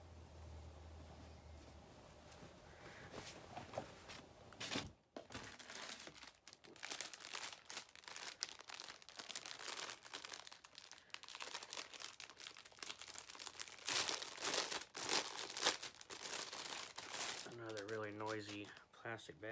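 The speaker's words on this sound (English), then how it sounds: "Plastic bag." Plastic crinkles and rustles on and off for a long stretch, close by, with a short pause partway through and brief talking near the end.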